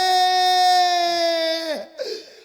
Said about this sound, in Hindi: किसके मुंह से रोने की आवाज आ रही है?